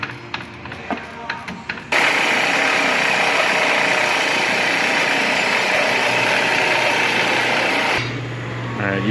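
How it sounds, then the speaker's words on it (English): A power tool whirs loudly and steadily while removing bolts, starting abruptly after a moment of quieter sounds and running for several seconds before easing off near the end. "Using the tool, he was able to quickly remove the other two bolts."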